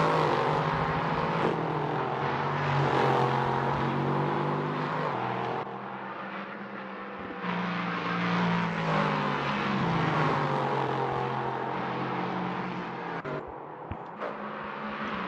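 LMP3 prototype race cars race during qualifying at the Spa circuit, engines roaring and shifting pitch as they accelerate and pass, steady loud drone with rising and falling revs and no talk.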